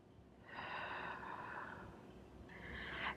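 A deep breath drawn and released during a Pilates twisting stretch in a lower-body strength and balance session, a broad airy hiss lasting about two seconds, then a shorter second breath, close and fairly soft with no talking.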